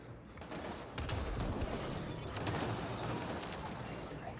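Automated turret firing in the video game Mass Effect Andromeda, a dense continuous barrage of rapid shots and combat noise that swells after the first second and holds steady throughout.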